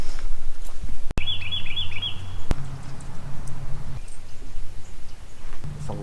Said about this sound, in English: It's alive with little warblers.